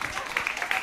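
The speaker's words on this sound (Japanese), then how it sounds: "もう一度大きな拍手を慎吾に送りましょう" A church congregation at a Sunday service applauds, a brief, dense wash of many hands clapping at a fair distance, fairly soft and blended with some voice.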